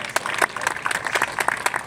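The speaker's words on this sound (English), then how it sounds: "Let's give Marin Conrad and her entire team a big round of applause" An outdoor crowd claps at a neighborhood mural celebration in Land Park, Sacramento. Scattered hand claps come from a modest group at moderate distance, brief and uneven, with no voices standing out.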